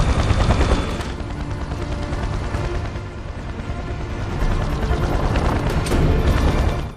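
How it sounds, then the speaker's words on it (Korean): Machine gun fire from a helicopter in a James Bond movie scene thunders loudly with dense booming bursts and rotor rumble, continuing without letup. "헬기에서 쏘는 기관총 공격은 감당 못하죠."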